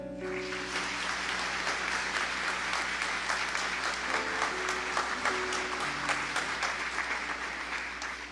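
A church congregation at a Mass for the Feast of Saints Peter and Paul breaks into steady, dense applause. The clapping is loud and sustained for about eight seconds and is heard on its own, with no talking over it.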